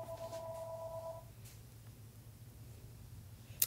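A telephone ringing indoors, a short electronic trill at the start, fairly faint over low background hum, followed by a quiet pause and a small click.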